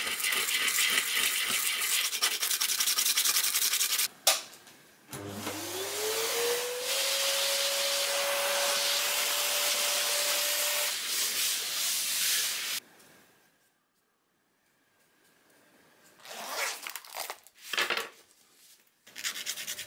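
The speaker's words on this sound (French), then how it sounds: "je passe à un ponçage dégressif" A bone ring is sanded with progressively finer abrasive by a power tool that whines up to a steady hissing rasp, runs for several seconds, stops into near silence, then starts again in short bursts.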